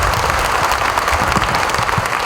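Dense, continuous applause from a large crowd at a Gor Banjara community gathering, loud and even for a couple of seconds with no voices.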